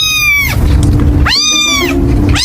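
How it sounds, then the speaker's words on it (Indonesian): A cat meows twice, close and clear, with rising-then-falling cries over a steady low background hum; a third meow begins at the very end. "Iya bener suara kucing."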